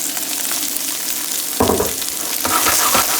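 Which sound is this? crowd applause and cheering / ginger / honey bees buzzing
ginger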